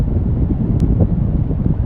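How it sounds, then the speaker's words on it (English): Cold wind gusts across a mountain section of the Appalachian Trail, a continuous low roaring buffet against the microphone with no other sounds standing out. "Windy,"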